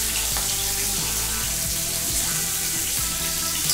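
Bacon crackles and hisses steadily in a hot pan, loud and close, with a dense, even frying texture and low rumbling tones underneath.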